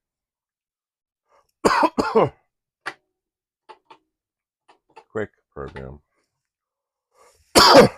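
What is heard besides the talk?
coughing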